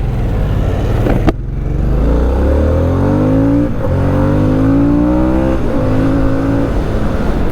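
A Harley-Davidson Sportster S motorcycle accelerates hard in road mode, its engine note climbing through several gear shifts with brief dips between pulls, loud and close from the rider's position.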